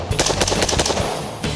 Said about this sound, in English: Even shooting fast, no problem.